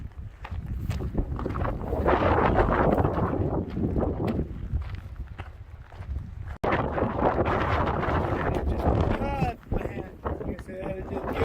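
Gusty wind buffets the microphone on a hiking trail in Arizona, a loud, rumbling, near-constant rush that swells and briefly drops out before surging again, with faint footsteps beneath.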